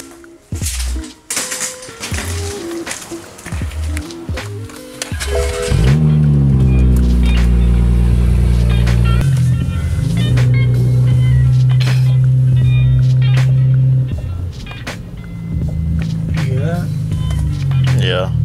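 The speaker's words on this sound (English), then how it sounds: "we're gonna test drive the car, see how it drives" Tuned BMW 335i F30 with the N55 engine running and driving, a loud steady engine drone with shifting pitch, people talking over it throughout.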